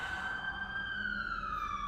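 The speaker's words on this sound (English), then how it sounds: "Siren." An emergency vehicle siren wails steadily outside, a single long tone sliding slowly downward, moderately faint and heard alone without talk.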